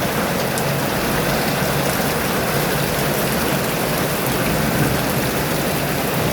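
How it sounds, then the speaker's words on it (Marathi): Heavy monsoon rain pours steadily in a hilly, tree-covered area, a dense unbroken hiss of drops on surfaces and puddles at constant loudness, with no voices. "पाऊस अजून जोरात येत आहे."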